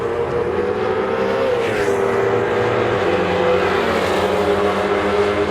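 Drag race car launching in a wheelstand at the NMRA Spring Break Shootout, a loud, sustained engine roar at full throttle with a steady, heavy drone.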